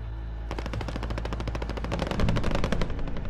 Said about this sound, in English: This Mac 10 right here hit hard